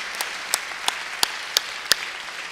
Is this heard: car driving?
no